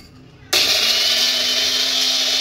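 An electric grinder switches on abruptly and whirs steadily at high speed, grinding black salt and chaat masala into a fine powder for a masala soda premix, loud and close with no talk.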